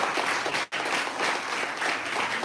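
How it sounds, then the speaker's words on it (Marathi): An audience claps for schoolchildren at a gratitude-day event in Phulgaon, steady dense applause filling the room, briefly dropping out for an instant before resuming at full strength. "तुमचा आम्ही टाळ्या वाजवून गोड गोड कौतुक करतो."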